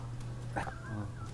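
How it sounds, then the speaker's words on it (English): Two dogs in a home kitchen give a short whimpering yip followed by a brief bark, close by over a low steady hum. "The two dogs."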